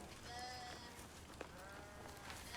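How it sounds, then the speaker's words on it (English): A sheep bleats in a TV drama scene, several wavering cries over low steady background noise with a brief knock partway through, no talk. "They kill a sheep."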